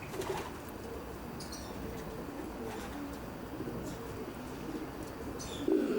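Racing pigeons coo in a smart 18x6 loft with open-door trapping, three sections and grill floors, soft low cooing throughout with a few wing flaps and faint chirps, fairly distant and calm.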